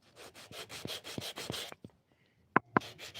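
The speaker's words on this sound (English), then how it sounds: "And here I'm just going to work another little micro bevel" Wood being hand-worked along its edge to form a small micro bevel, a series of steady rhythmic rubbing and sanding strokes up close, followed by a pause and two sharp knocks.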